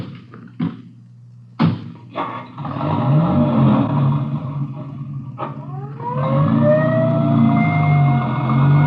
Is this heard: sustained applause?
no